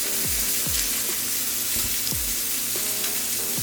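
Smash burger patties hiss and sizzle steadily on a hot griddle, a close, continuous frying crackle with a few sharp scraping or tapping knocks from a spatula.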